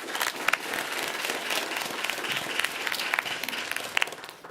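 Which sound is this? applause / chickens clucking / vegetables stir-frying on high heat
applause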